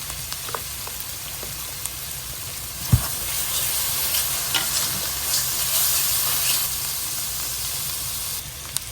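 Cumin powder being stirred into fish curry frying in a pan, a steady sizzle with soft scraping and one sharp knock against the pan near the middle, heard close and alone.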